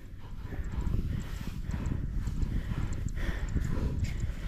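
A water buffalo trudges through thick mud without water, each step thudding and squelching, with steady outdoor rumble running underneath throughout.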